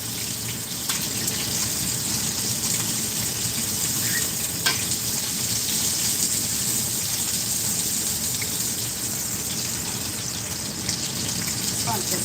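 Pork katsu fries in hot oil in a pan, giving a close, continuous crackling sizzle with a few faint clicks and knocks of cookware.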